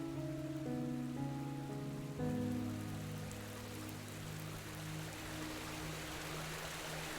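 Steady hiss of rain falling over soft, sustained musical tones in the video game Enderal: Forgotten Stories, fairly quiet and constant with no voices.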